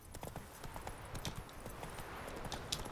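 Hooves of a galloping horse in The Witcher video game clip-clop in a quick, steady rhythm, close and moderately loud, with faint game ambience underneath.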